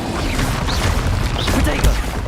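Spell blasts from the video game Hogwarts Legacy burst loud and dense in quick succession, a crackling, booming barrage with whooshing streaks and a thump near the end.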